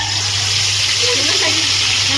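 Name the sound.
tempering spices sizzling in oil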